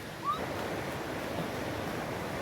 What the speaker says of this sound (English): So we can hear the river. It's super loud today.